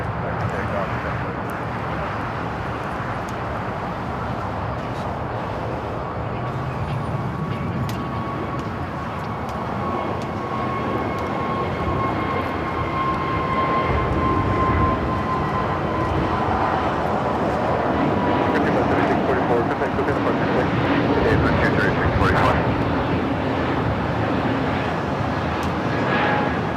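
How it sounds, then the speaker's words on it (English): A Frontier airliner on its takeoff roll on runway 25 right at LAX, a broad, steady engine roar that slowly builds and swells in the distance, with faint background clatter and voices underneath. "the Frontier flights heading to Phoenix now, rolling down at 25 right"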